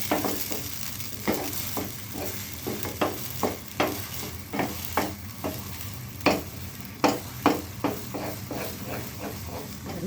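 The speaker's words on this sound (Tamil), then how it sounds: "இதை நல்லா கிளறிட்டே இருக்கணும்" A spoon scrapes and stirs thick jackfruit halwa in a hot pan, repeated clacks in a steady rhythm over a soft frying sizzle.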